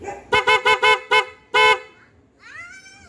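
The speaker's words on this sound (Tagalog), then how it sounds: "Grabe yung busina na yun." A G-Star vehicle air horn blasts up close in a rapid run of five short, loud honks, then one longer honk, followed by a fainter sliding tone.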